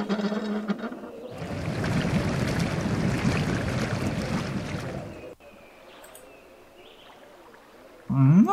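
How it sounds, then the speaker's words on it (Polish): Water rushes into a pool in the video game Dracula 2, a dense, loud gushing wash that lasts a few seconds and then cuts off, leaving quiet ambient game sounds. "basen się napełnił wodą chyba"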